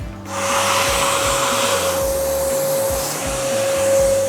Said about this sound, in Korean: 이쪽에서 붓이랑 청소기 사용해서 앞뒤로 잘 청소해 주겠습니다